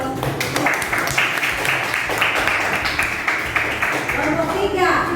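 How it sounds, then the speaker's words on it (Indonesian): Steady applause and clapping fill a fifth-grade classroom throughout, with children's voices chattering underneath. "Berikan tepuk tangan untuk"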